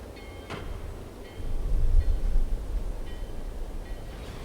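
A train sits at a station in the video game Secret Files: Tunguska, giving a low rumbling hum with faint metallic clicks and a swelling mechanical roar midway, with no voices.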